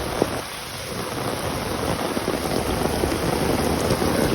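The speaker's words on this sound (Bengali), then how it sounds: "এটা আজকে সকালে বৃষ্টি হচ্ছে" Heavy morning rain pours down in Gazipur, a steady dense hiss of drops hitting surfaces close by with a single sharp knock near the start, continuous and fairly loud with no voices.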